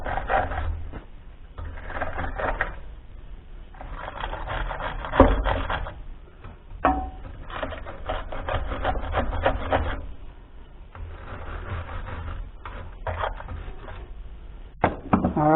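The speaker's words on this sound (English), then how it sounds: "see if I can clean these threads a little." Scraping and rubbing on the threaded fitting of a Husky air compressor's pressure switch as the threads are cleaned, with close, uneven bursts of gritty rasping and brief pauses throughout.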